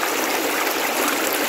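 Flowing stream water rushes and babbles close by, a steady bright wash with no voices.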